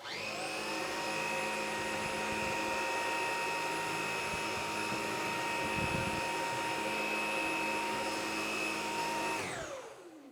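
A Dreame Z10 Station cordless vacuum cleaner runs steadily while sucking up hair, a loud continuous high-pitched whine that holds for about nine seconds before spinning down at the end.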